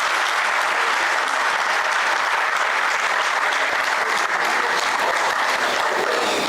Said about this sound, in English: Let's have a huge round of welcome claps for him.